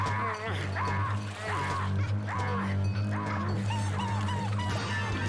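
A dog in the Neighbours From Hell game barks in repeated short yips and whimpers over a droning game music bed, several bursts in a row.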